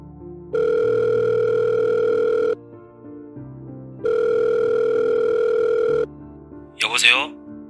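A telephone ringback tone sounds twice, each a long steady buzz followed by a pause, while a call to a seller connects. A voice answers briefly at the end.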